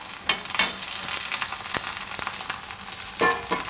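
A matar paneer paratha roasts on a hot griddle, sizzling steadily with soft crackles and a few sharp pops and scrapes. The sound is moderately loud and continuous, with no talking.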